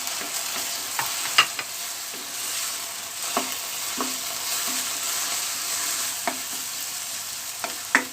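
Chopped tomatoes are stirred into qeema karela frying in a pan, giving a continuous sizzle close by, with scattered clinks and scrapes of the spoon against the pan and no speech.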